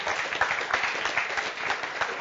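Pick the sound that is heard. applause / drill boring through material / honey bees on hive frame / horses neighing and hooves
applause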